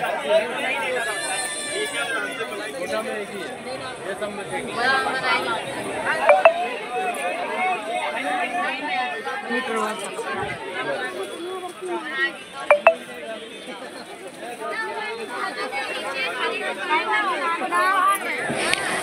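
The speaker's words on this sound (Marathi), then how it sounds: "त्याच्यामुळे खूप गर्दी होती आता." Dense crowd chatter and hubbub fill a busy clothing market during festival season, a steady close babble of many voices with occasional clinks and louder bursts throughout.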